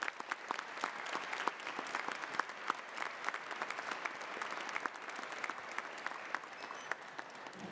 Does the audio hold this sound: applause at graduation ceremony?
yes